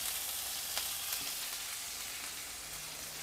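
Green chilies and asafoetida hit hot oil with cumin, giving a loud, continuous close sizzle with faint crackles throughout.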